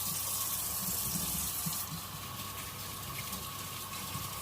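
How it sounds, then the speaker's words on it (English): Tap water runs steadily into a kitchen sink during hand washing after handling dough and olive oil, a continuous close hiss that shifts slightly partway through, no talk. "Let me wash my hands real quickly."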